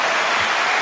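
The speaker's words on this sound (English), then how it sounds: "let's round of applause for a new segment" Brief, dense burst of applause during a live stream show, sounding like a continuous crowd-clap wash with no talk over it.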